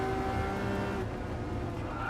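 A sustained, steady engine drone from an Italian car in the racing game Gran Turismo Sport, held at a constant pitch with a slight shift about halfway through, loud and close with no talking.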